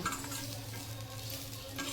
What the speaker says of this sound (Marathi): या कढईमध्ये असं भाजून घ्यायचं